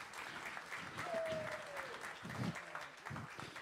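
Live audience applause for a young baritone saxophone player at a band show, a moderate wash of clapping sustained for several seconds with a brief tone sliding across it.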